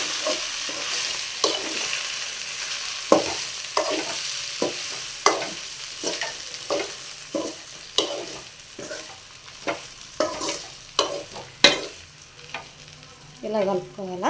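A spoon stirs drumstick fry coated in chilli powder in a hot pan, giving soft intermittent scrapes and clinks over a low, gentle sizzle.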